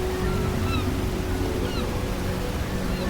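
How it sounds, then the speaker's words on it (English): Dettifoss waterfall in Iceland roars with a dense, constant wall of crashing water, loud and unbroken throughout, with no voices. "Millions of liters of water crash downward every second, turning rock into mist, filling the air with a constant roar that can be felt through the body"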